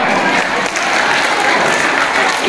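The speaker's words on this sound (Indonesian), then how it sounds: "Tepuk tangan lagi." Dense, steady applause from an audience at a school reading-and-writing workshop fills the whole stretch, loud and close with no pauses.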